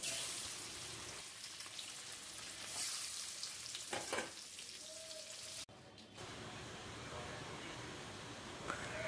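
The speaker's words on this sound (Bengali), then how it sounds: "এইভাবে বাকি মাছগুলো তেলে এইভাবে" Pieces of boal fish fry in hot oil in a pan, a steady soft sizzle and crackle with a brief clatter midway, fairly quiet and without talk.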